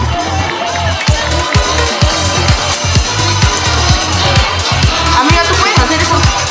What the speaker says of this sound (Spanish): Fuerte el aplauso para esta chica que está con el Hula Hula Hop.